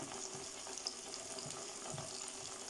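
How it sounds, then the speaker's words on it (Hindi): Chicken pieces coated in spice masala frying in hot oil for broast-style fried chicken, a soft, even bubbling hiss that stays low and constant, close by, with no talking. "अच्छी तरह किए हुए गर्म तेल में हमने इसको डालना है।"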